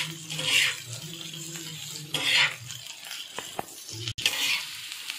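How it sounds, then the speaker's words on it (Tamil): Onions sauté and stir in a pan while goat brain gravy is cooked, giving a close hiss and sizzle with scraping stirs and a brief clatter near the end, without talk. "இப்போ நம்ம வெங்காயம் போட்டுக்கலாம். நல்லா வெங்காயம் வந்து நல்லா வதங்கி வரணும்."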